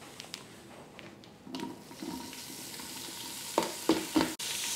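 Chopped pancetta sautéing in a pan for penne alla vodka, a low crackle with a few sharp clatters and scrapes, ending in a brief, brighter rushing burst.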